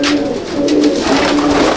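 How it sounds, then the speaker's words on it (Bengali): Low, continuous cooing from pigeons in a loft in Akra, Kolkata, with several birds burbling together in a steady murmur, close and fairly loud, no talk over it. "দেখুন এক বেগদা পায়রা"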